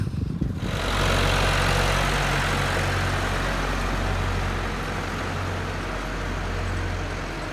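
A Volvo tractor, a 2254 4WD log hauler, idles steadily after a brief start-up, a loud low diesel rumble holding even for several seconds with no talk.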